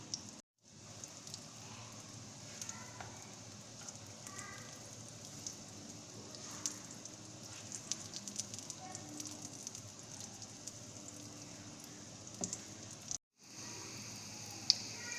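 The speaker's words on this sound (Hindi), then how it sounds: "पैन में थोड़ा सा ऑयल लेंगे और इनको 1 बाय 1 हम डाल के लाइट गोल्डन ब्राउन कर लेंगे।" Potato cutlets shallow-fry in a little oil in a pan, giving a quiet, continuous crackle with soft pops and spits throughout.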